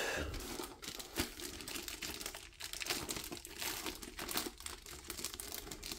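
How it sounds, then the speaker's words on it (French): Cardboard and plastic packaging of a Diamond Art Club diamond painting kit tearing and crinkling as it is opened, a continuous close rustle with sharp rips throughout, no speech. "Bon, naturellement, ça déchire."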